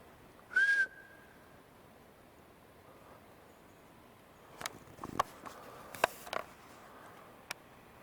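A single short, bright whistle rings out in the woods, then fades into near silence. Scattered faint rustles and knocks follow later.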